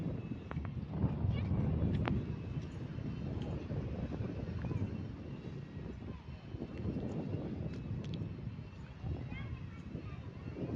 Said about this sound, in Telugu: గాలి మటుకు బలి ఉంది ఫ్రెండ్స్.